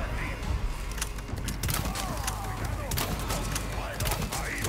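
Rapid gunfire in Resident Evil 4 Remake, a string of quick sharp shots fired in short bursts over a steady game soundscape, with a voice talking along underneath.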